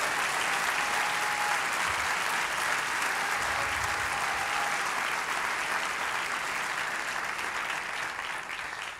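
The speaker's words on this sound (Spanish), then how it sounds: "si ese aplauso es para el Rey de Reyes" A church congregation applauds at length during a sermon, a sustained roar of many hands clapping steadily, full and reverberant, with no speech over it.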